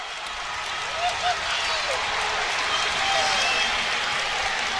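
A large crowd at an Iowa at Penn State wrestling meet roars and cheers continuously, a dense wash of noise with scattered shouts and whistles throughout.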